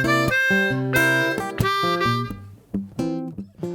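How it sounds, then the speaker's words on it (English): A blues harmonica plays a turnaround lick of draw and blow notes, including a 2 draw and a 2 blow. The phrase is loud, close and rhythmic, with a few sustained chords and short punchy notes and no talking. "which is going to be a turnaround lick."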